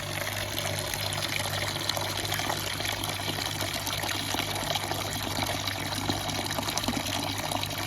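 Water running steadily from a tap into a container for a pigeon loft, a continuous close splashing gush with no pauses or talk.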